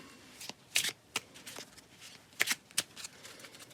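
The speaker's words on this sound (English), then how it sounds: "Let's shuffle them up." A deck of story cards is shuffled by hand in several quick riffling bursts separated by short pauses, crisp and close but quiet.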